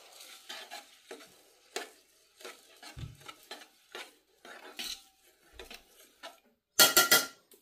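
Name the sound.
mixing seasoned rice with black pepper and salt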